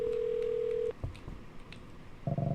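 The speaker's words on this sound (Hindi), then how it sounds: "Maybe I should call Dan and see if I did something wrong" Phone in a pawn shop horror video game: a steady dial tone cuts off, followed by faint clicks and then a burst of dialing tones near the end.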